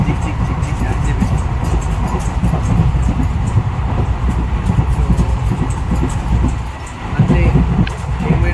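Passenger train running on rails on the route toward Mandapam, a loud steady rumble heard from inside the carriage with rhythmic clatter, briefly dipping near the end.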